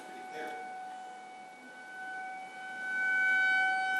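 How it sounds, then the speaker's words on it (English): Outdoor tornado warning siren wailing at a distance, a steady held tone that swells louder toward the end, with a brief murmur of voices near the start. "That's the tornado siren again."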